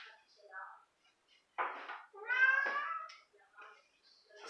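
A house cat meows several times, close and fairly loud, with one longer drawn-out call in the middle, while a person speaks quietly in the pauses between the cries.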